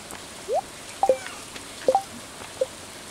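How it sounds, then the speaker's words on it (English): Sparse, faint droplet plinks and short chirpy ticks over a quiet background, like light rain in the farming game Stardew Valley, with a handful of separate drops spaced irregularly. "It's gonna be rain, so I don't need water."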